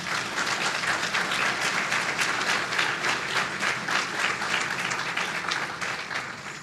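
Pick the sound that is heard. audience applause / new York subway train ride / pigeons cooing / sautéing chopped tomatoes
audience applause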